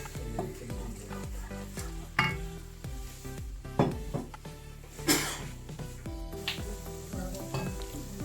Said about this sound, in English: Let get oil hot. Add large onions, large size.